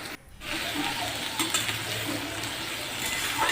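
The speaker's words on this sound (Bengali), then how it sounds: "এখন পেঁয়াজগুলি তেলে ভাজা হবে" Onions frying in oil in a pan for a Bengali chicken curry, a steady close sizzle and hiss running throughout, with a brief drop at the start and faint stirring scrapes.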